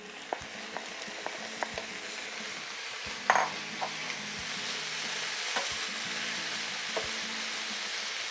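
Vegetables for machaca fry in a pan with a steady sizzle, while a utensil scrapes and taps against the pan in scattered clicks as they are stirred, one louder clack near the middle.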